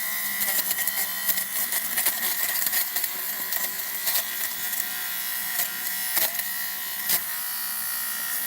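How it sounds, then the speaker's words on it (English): Electric fabric shaver buzzing steadily over the fuzzy surface of white Jordan 4 sneakers, close and continuous, with light scratchy clicks as it catches fibres. "I can still get in there and kind of shave this a little bit"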